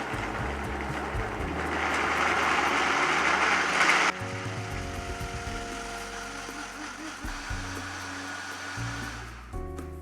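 A blender whirs through a jalapeño cashew dressing, a loud continuous motor drone that swells for about four seconds, then drops to a lower, steadier hum as the mix smooths out, running on alone to the end.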